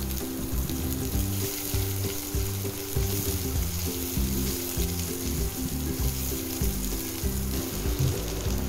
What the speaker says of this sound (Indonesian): Saya tumis dulu bawang merah, ditumis sampai layu.